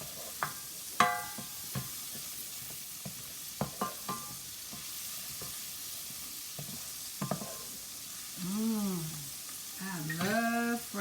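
Minced garlic for butter garlic shrimp sizzles quietly in a pan while a utensil stirs it, producing soft frying hiss with intermittent scraping clinks and a few brief squeaky scrapes near the end.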